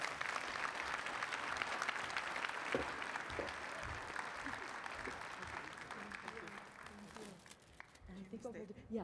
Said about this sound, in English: So how about another round of applause for General Mahlock?